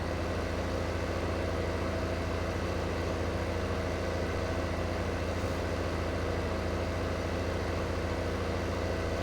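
A tractor engine idles in Farming Simulator 15 on Xbox One, a constant low, droning hum that stays unchanged and unbroken throughout, with no talking.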